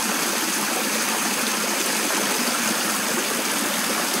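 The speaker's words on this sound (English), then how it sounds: "The water is not flowing over the top, it's flowing between the body of the catch basin and the lid." Storm water from a rain garden catch basin during a hurricane, escaping between the basin body and its lid in a steady, loud, close rushing gush with no voices.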